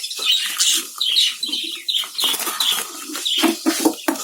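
Rapid bursts of budgerigars' wings flapping and fluttering in agitation as they are caught in a breeding colony, mixed with scratchy scuffling and sharp chirps, continuous and close.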